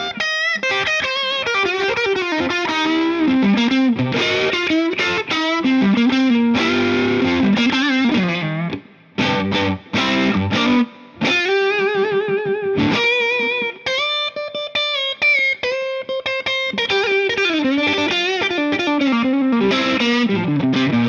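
Electric guitar played through an Ibanez Nu Tube Screamer overdrive pedal, a continuous driven, distorted riff of chords and single notes with brief stops, loud and up close.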